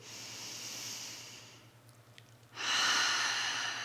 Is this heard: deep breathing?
yes